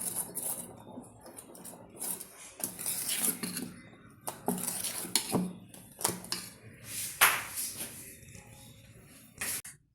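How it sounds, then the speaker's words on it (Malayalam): Dosa batter with tempered curry leaves and chili is stirred in a bowl, a spoon scraping and clinking in irregular bursts, with short pauses between strokes. "നന്നായിട്ട് മിക്സ് ചെയ്യാം."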